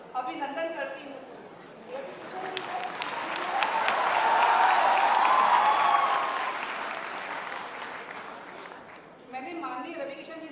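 An audience at a ceremony for students bursts into sustained applause that swells to a dense peak and then fades, with a voice speaking over the hall before and after the clapping.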